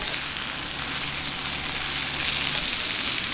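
Green onions sizzle on a homemade discada plow-disc griddle, a steady, loud, close frying hiss that runs unbroken with no talking.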